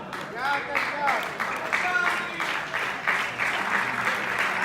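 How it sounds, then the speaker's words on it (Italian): Spectators at an Eccellenza football match applaud a player leaving the pitch, their dense crowd clapping mixed with cheers and voices and a commentator talking over it. "Applausi a scena aperta"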